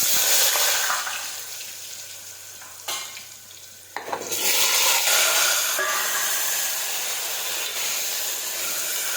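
Chopped potatoes fry in hot oil with mustard seeds, cumin and asafoetida for a Gujarati potato curry, giving a loud, steady sizzle and crackle with a short dip in the middle before the frying noise surges back.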